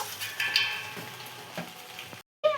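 Basanti pulao stirred in a pan, with a spatula scraping and shuffling through the rice over a soft sizzle, cutting briefly to silence near the end.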